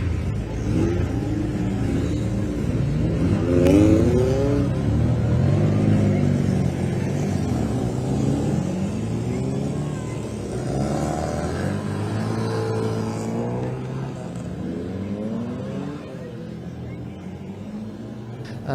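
MG Owners Club race cars at Thruxton circuit give a continuous engine roar with rising and falling revs as several cars pass, loud and sustained, with a commentator's voice faintly underneath.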